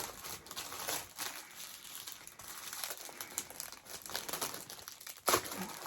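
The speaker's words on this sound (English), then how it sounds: "Sorry for the crinkling." Plastic wrapping around a piece of blue fabric crinkles and rustles steadily up close for several seconds, with a sharper crackle near the end and no talking.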